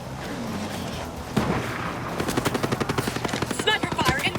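Gunfire in Ghost Recon Breakpoint: a low rumble gives way to a rapid, evenly spaced burst of automatic shots close by, ending with sharp chirping effects and a few brief voice cues.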